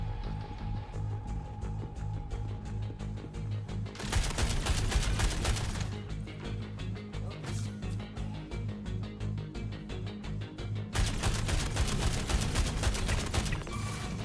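A video game weapon fires in rapid bursts with an uneven cadence, two long loud volleys separated by quieter stretches with a short single burst between them, over a constant low background hum and no speech.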